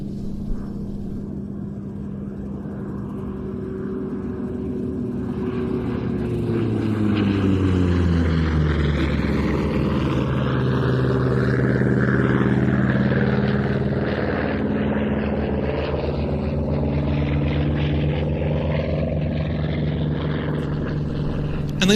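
Vought F4U Corsair propeller fighter in Korean War Flying Nightmares night-fighter markings flying at an airshow in Leszno, a deep droning piston engine whose pitch sweeps noticeably as it passes, swelling louder mid-clip then easing away.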